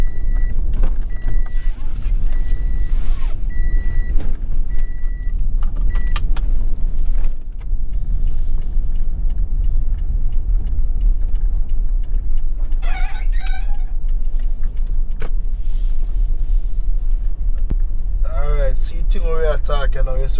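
A car drives along a countryside road in St. Elizabeth Parish, Jamaica, with a constant low road and engine rumble throughout, occasional thumps and rattles, and a brief chirping or squeaky sound near the end.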